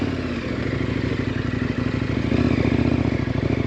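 A dual-sport motorcycle rolls slowly with the clutch pulled in under hard rear braking, giving a steady close engine rumble with rough scraping texture from the rear tyre, continuous and without speech.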